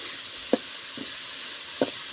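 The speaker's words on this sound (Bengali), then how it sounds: "এখানে গুঁড়ো মশলা মরিচের গুঁড়া হলুদের গুঁড়া জিঙ্গা গরম মশলা গুঁড়ো সব কিছু এখানে দিয়ে ভালোভাবে কষিয়ে নিচ্ছি" Onion with ground chilli, turmeric and garam masala being stir-fried in a pan for a fish-head muri ghonto, a soft steady sizzle with a few sharp spoon scrapes against the pot, close and without voices.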